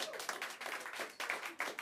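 Bursts of audience applause and cheering at a German comedy show, a dense crackling clatter of many hands that swells and fades in waves, fairly close and loud throughout the short stretch.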